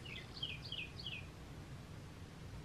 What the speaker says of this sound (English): did y'all hear the birds